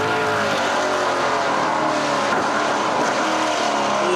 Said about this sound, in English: You can hear those general tires just on the edge of adhesion